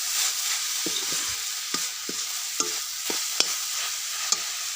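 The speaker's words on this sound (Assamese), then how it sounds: "নাৰিকলখিনি ভাজা হৈ গ'ল।" Semolina and coconut fry in a pan with a steady soft sizzle, broken by a series of sharp scraping clicks as a spoon stirs and taps the pan, with no voices.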